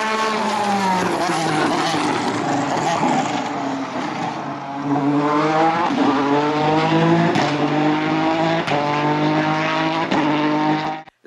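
McLaren P1 supercar with 875 horsepower and a huge rear wing at a classic motoring event, its engine roaring loudly through rising and falling revs for several seconds before cutting off sharply.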